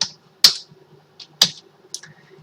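Computer keyboard keys pressed while copying and pasting code, giving a few sharp, separate clicks spaced about a second apart, close and fairly clear with no talking.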